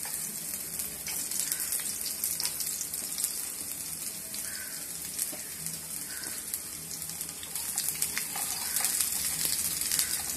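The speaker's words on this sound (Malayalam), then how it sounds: "ചട്ടിയിൽ എണ്ണ കൂടേണ്ട, അതിലേക്ക് വെളുത്തുള്ളി കൊടുക്കും." Garlic frying in hot coconut oil in a pan, a steady close sizzle and crackle that continues without a break and with no talking.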